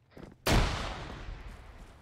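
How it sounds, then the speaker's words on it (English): A single loud, close grenade explosion in Arma 3 during a military simulation mission in Diyala Province, with a sharp onset and a long rumbling decay. "Grenade!"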